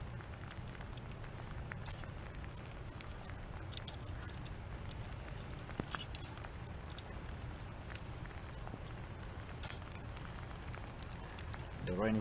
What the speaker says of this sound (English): The rain is getting more intense.